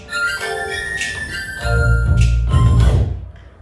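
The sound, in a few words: DJ controller cue point playing the track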